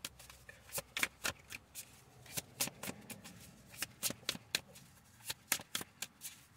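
Tarot cards are shuffled close by in a quiet room, a run of quick, crisp riffling bursts repeating in an uneven rhythm.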